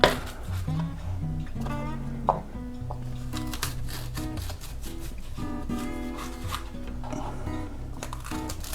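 A small kitchen masher works through cooked ingredients for a spinach and artichoke dip, giving soft, steady squishing and crushing strokes up close, repeated evenly throughout at modest volume with no talking.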